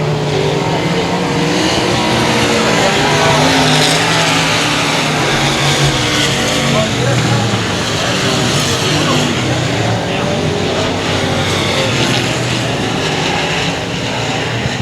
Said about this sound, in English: Martin in the yellow car and Smith in the purple car out front